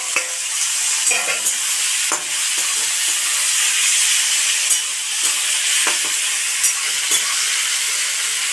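Water lily stems with spices and shrimp fry in hot oil, a loud steady sizzle and hiss broken by occasional stirring scrapes and clicks, with no voices.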